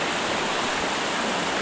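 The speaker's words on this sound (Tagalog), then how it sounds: "Wow, waterfalls." A waterfall at Clear Water Bay produces a dense, steady broadband roar of rushing water, loud and close with no breaks.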